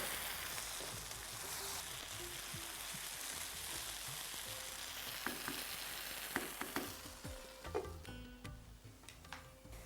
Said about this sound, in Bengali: এই কচু ভাজাটা আপনাকে ধিমে আঁচে অনেকক্ষণ ভাজতে হবে